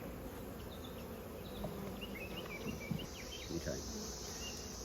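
Honeybees at an open beehive, shaken off frames during an inspection of a colony damaged by wax moths, make a dense, steady buzzing drone throughout, with a few brief louder passes from bees flying close.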